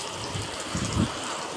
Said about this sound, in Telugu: చాలా ఘోరంగా పడుతుంది వాన.